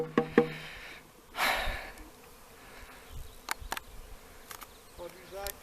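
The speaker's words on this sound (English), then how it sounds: "There's my swarm, the tip top of a tree." Honey bee swarm buzzing high in a tree in northeast Tennessee, a soft, wavering drone with a brief louder swell, broken by a few sharp clicks and handling noises.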